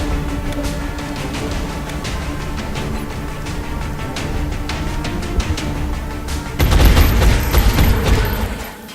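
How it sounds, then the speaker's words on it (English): In XCOM: Enemy Within, a frag grenade blows apart a wall with a sudden heavy boom near the end, following a stretch of dense rattling gunfire. "Throw a grenade to see what happens if we do this wall"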